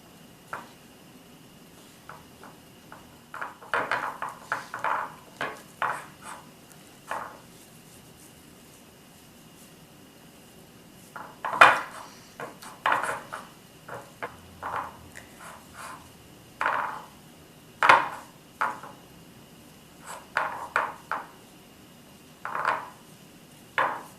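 Egg being mixed into flour by hand for pasta dough, heard as soft, irregular squishing and tapping in short bursts, fairly close and quiet, with no talk.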